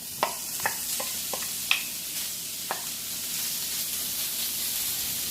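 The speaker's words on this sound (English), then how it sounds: "Just strips of bacon. There's about 6 bacon strips sliced up. You want to get a nice fry on this, get it nice and crispy." About six sliced bacon strips fry in a pan, a loud, continuous sizzle and crackle close by, punctuated early on by several sharp clicks and pops that thin out toward the end.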